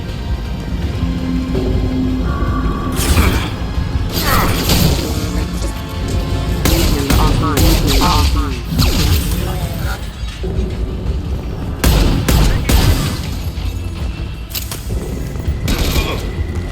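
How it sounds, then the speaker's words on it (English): A high-impact shot from a weapon fires in a dense, loud barrage, with repeated booming blasts and heavy crackling impacts layered over a constant noisy backdrop throughout. "Firing a high-impact shot."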